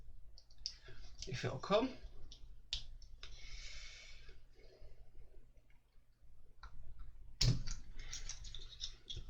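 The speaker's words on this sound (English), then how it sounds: "pop it down through the hole down here to try and pop out the centre cap" A screwdriver pries a plastic centre cap off a model car wheel, giving a few scraping clicks and a sharp pop near the end, close and small, with brief talk in between.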